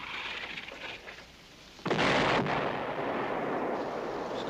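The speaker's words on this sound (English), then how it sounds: "Sounds like searching fire." Artillery searching fire in a 1960s WWII combat drama booms in with a sudden loud, sustained blast of rumbling roar after a quieter stretch of distant hiss and rumble, staying heavy to the end.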